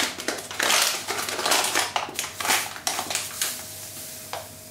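Sugar scooped from a bag into a one-cup measure in a home kitchen, with repeated crunchy, rustling scrapes and granular pours in irregular bursts, close and fairly loud.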